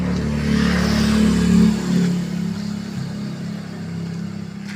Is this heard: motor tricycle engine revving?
yes